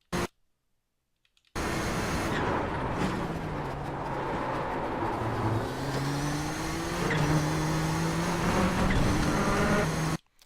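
Nissan GTP ZX-T race car engine on the Silverstone circuit in the iRacing sim, a loud sustained roar held at full throttle with rising and shifting engine tones, alone after a short silent start.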